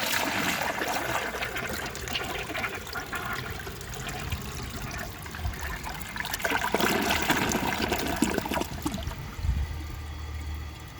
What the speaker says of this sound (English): For the first flush test, let's see how it flushes with a dry bowl